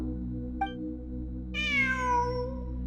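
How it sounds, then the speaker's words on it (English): A cat meows inside the Genshin Impact game, one long falling meow standing out clearly over a steady low musical hum, with a faint short chirp a moment before it. "I'm not hearing things. It really is a cat."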